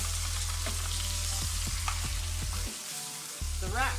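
Rack of lamb sizzles loudly in a pan while it is basted with butter. The frying has spoon taps and spattering bursts, and a voice briefly speaks over it.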